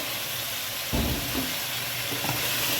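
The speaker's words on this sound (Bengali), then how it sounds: "এখন ওই মশলাটা যেটা করেছি সেখানে চিকেনটা ছেড়ে দিলাম" Chicken pieces dropped into a pan of spiced masala for Kolkata-style chicken biryani, giving a steady close sizzle and hiss that swells as they hit the hot oil, with stirring scrapes over it.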